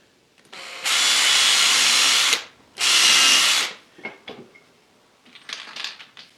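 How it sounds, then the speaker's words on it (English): A power drill bores a pilot hole into the end of a wooden box joint jig part in two long whining bursts with a brief pause between them, followed by light clicks and handling noise. "Now I'll just drill a pilot hole in the end of"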